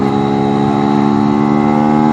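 A new two-stroke engine in third gear holds a loud, buzzing, steady drone under open throttle, close up and alone without talk.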